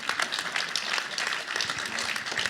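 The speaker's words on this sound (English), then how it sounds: "Let's give Brad a clap." A church congregation at Redgum Church claps for Brad after an interview, a moderately loud, irregular run of clapping with scattered individual claps standing out.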